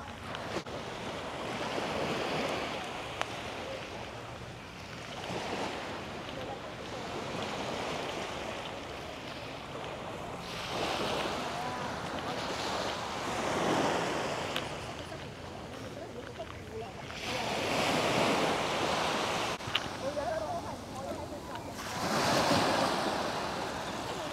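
Surf rolls in steadily on a black-sand beach in Macau, a broad continuous wash swelling every few seconds, with wind buffeting the microphone and people talking over it.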